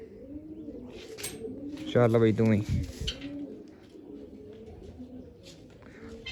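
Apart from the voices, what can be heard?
pigeon cooing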